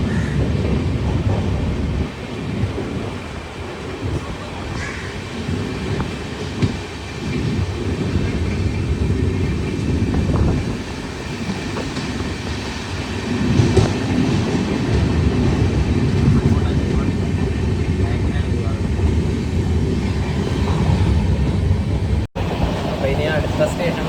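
A passenger train running out of Alappuzha in Kerala on an express service bound for Delhi, heard from inside as a steady low rumble with rail clatter. Someone talks over the noise.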